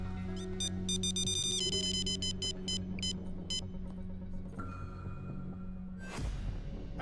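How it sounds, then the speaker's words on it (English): An alarm sounds inside a heist in the video game Payday 3, with repeated loud electronic beeping bursts over a sustained tonal blare, followed by a sharp noisy burst near the end. "that's the alarm"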